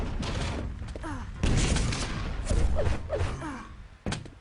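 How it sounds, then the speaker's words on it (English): Rockets fire and burst in a video game, in a capture-the-flag style team match, a dense run of loud thumping blasts and whooshing launches layered over constant busy game noise, close and chaotic. "Look at these rockets. Brilliant rockets."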